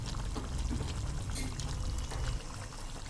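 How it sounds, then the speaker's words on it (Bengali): Water saved from grinding spices on a stone slab is poured into a simmering chicken curry, giving a soft, steady splashing pour that lasts a few seconds at low volume. "এই জলটা অ্যাড করে দিলাম"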